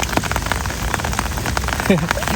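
Heavy rain pours on a surface outdoors during a snakehead fishing trip, a steady dense hiss with scattered drops, and a brief voice briefly under it.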